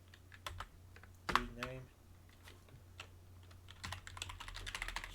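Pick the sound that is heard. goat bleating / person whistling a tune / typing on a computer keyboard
typing on a computer keyboard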